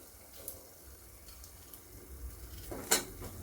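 A spoon stirs large potato chunks in a cooking pot, giving soft scraping and shuffling sounds over a low background hiss, capped by one sharper metallic clink near the end; no one speaks.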